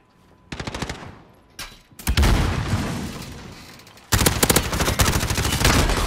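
Rapid gunfire from a first-person shooter video game plays out in three loud bursts. The first is a quick rattle. After a short pause, a heavier stretch of sustained shots and booms follows. A final dense, close volley ends it.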